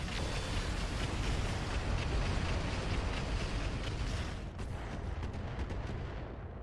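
Heavy weapons fire in the RogueTech mod of the BattleTech video game: a dense, continuous barrage of loud booming shots and blasts that swells, dips briefly, then carries on at high intensity, with no talk.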